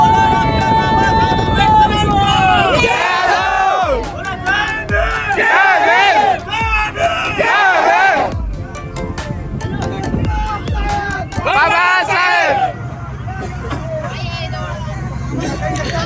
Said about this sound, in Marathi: आणि या बोटीत आहे ना बाबासाहेबांची नारे चालू झाले होते